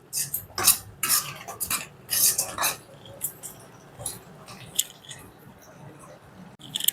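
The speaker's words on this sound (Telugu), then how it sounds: "ఇప్పుడు ఫ్లేవర్ కోసం ఒక స్పూన్ నెయ్యి వేసుకుందాం ఇలాచి పౌడర్ వేసుకుందాం వేసుకొని మిక్స్ చేసుకుందాం" Spoon stirring a coconut and jaggery laddu mixture with ghee and cardamom powder in a pan, close scraping and soft squishing strokes in uneven bursts.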